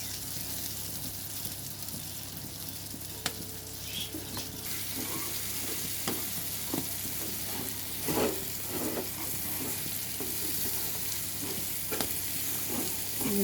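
Curry leaves crackle and sizzle in hot oil while a spoon stirs them around the pan, a constant frying hiss broken by scattered scraping taps and clinks, with no talk.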